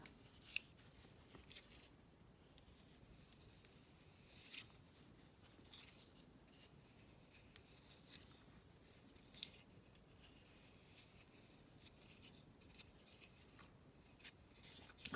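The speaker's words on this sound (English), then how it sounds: "You can take a knife, start cutting your funnel." A knife carves a funnel into packed casting sand, making very faint, gritty scraping and crunching in short intermittent strokes, with a few small clicks and no voices.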